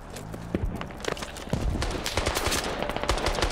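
Rapid automatic weapon fire in the military shooter Squad, with dense bursts of gunshots rattling continuously and growing louder and more sustained midway through.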